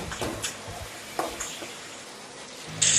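Potatoes frying in oil in a pan, a soft sizzle with a few short scraping stir sounds and a brief brighter hiss near the end, close and quiet.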